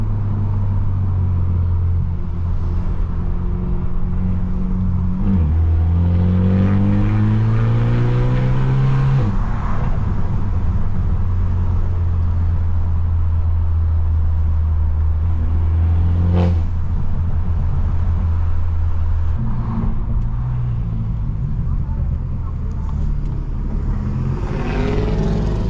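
From inside a straight-piped BMW F30, a loud exhaust drones and rises through repeated accelerations and shifts, with an occasional sharp pop cutting through the continuous roar.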